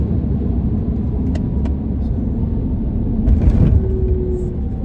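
Steady road rumble and engine-free drive noise heard from inside a moving Tesla Cybertruck, a loud continuous low hum with a slight swell near the end and no talking.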